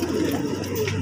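Pigeons in a rooftop coop give soft, low, continuous cooing, close by, over a brief moment with faint background hum.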